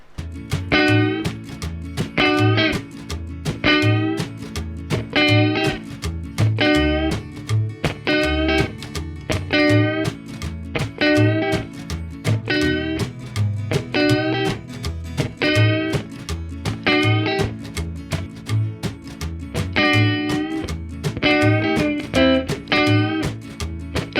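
Electric guitar plays rockabilly solo licks in A over a steady backing track, bright picked phrases repeating in a regular bouncing rhythm with a thumping bass pulse beneath, loud and close throughout with no speaking.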